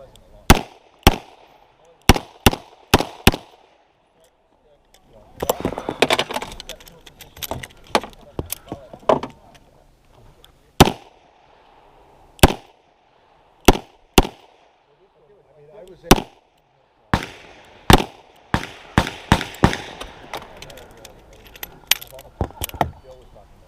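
Revolver shots crack out at an IDPA pistol match, sharp loud reports in quick strings and scattered singles, some with rattling, clattering tails from falling steel targets.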